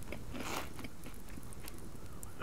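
A protein bar is eaten in the survival video game Subsistence: a quick crunchy bite followed by a few soft chewing crackles, close and fairly quiet, with no talking.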